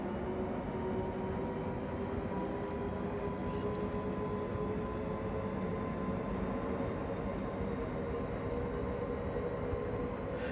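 An OEBB 1044 electric locomotive in Train Simulator on the Semmeringbahn runs at line speed, a steady rumbling drone with faint whining tones, continuous and fairly loud with no talk.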